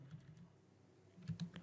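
Keys on a computer keyboard being typed to enter a web address, a faint burst of a few quick clicks near the end after a quiet stretch.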